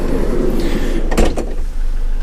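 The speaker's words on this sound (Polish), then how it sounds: "Już otwieram drzwi. Otwieram drzwi, zaraz Wam pokażę." A camper van door is opened, giving a short burst of clattering, latch-like noise against a steady background hum, with no voices.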